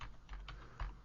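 Keys clatter on a computer keyboard as a DOS command is typed, a few quiet close keystrokes in quick succession over a steady background hiss.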